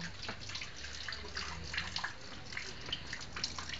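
Water streams from the tap of an outdoor laundry tank in a steady, close hiss and splash with faint dripping textures, and no one speaks.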